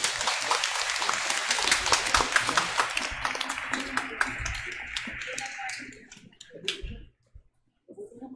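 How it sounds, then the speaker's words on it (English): Congregation applause during a Holy Mass, dense clapping filling the church for several seconds, then thinning and fading out into near silence with a few scattered taps at the end. "let's give the Lord a big round of applause"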